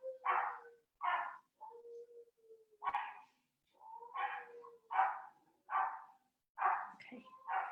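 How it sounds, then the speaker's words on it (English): Several short, sharp dog barks come in an uneven series from a nearby room, with brief whines between them, fairly faint, and no talk. "Sorry if you can hear my dogs barking."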